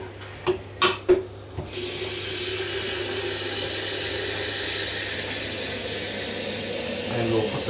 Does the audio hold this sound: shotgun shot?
no